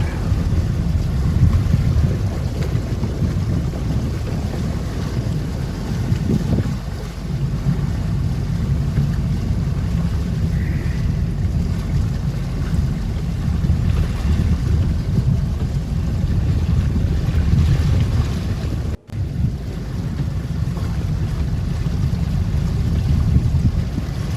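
A boat engine drones steadily over water, mixed with wind buffeting the microphone and a brief dropout near the end.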